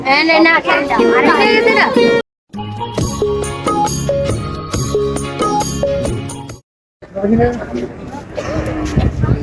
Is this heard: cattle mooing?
yes